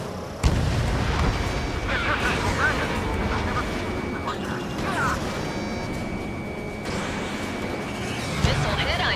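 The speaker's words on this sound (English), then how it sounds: "Missile hit on UAV." Missile strike on a UAV amid explosions in the video game Ace Combat 7, with a sharp loud hit followed by a dense roar of blasts and jet noise while radio voices talk over it.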